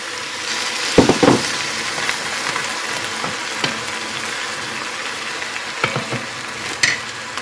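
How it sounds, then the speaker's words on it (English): Steady bubbling and sizzling from a covered pot of potatoes and cabbage boiling in water over medium-high heat on the stove, with occasional clinks and taps of a utensil against it. "if you can hear me over my boiling potatoes"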